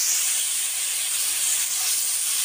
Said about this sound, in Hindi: इसमें डाल दूँगी और इसे अच्छी तरह से मैं भूनूंगी